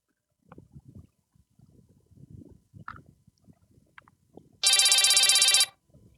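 A phone call rings out unanswered, a loud steady electronic ringtone burst of about a second following scattered faint rustling and soft handling sounds.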